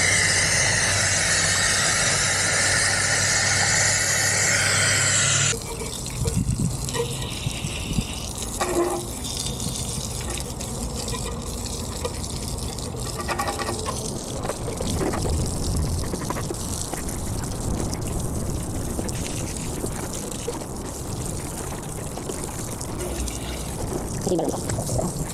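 A hose rinses a car wheel during a home wash of a VinFast VF8, first a loud, hissing spray up close, then splashing water and dripping with scattered handling noises; a voice speaks briefly.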